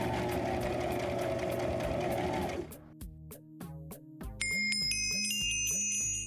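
An electric sewing machine stitches a plush toy's front inner leg piece to its fabric gusset: a steady whirring run, then slower stop-start stitching bursts as a chiming tune comes in over it.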